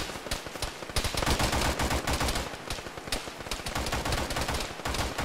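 Dense gunfire in a video game firefight, continuous bursts of automatic weapons and rapid overlapping shots, loud and near, with no voices audible.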